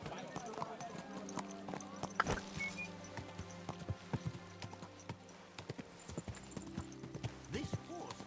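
In the medieval video game Kingdom Come: Deliverance II, a horse's hooves clop in a quick, uneven rhythm over a background of music-like tones, with voices speaking over the hoofbeats.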